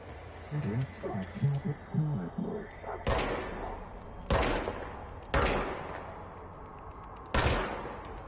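Gunfire from the player's weapon in the video game Control: four sharp, loud blasts, each trailing into a short decay and spaced a second or two apart, after a stretch of someone talking at the start.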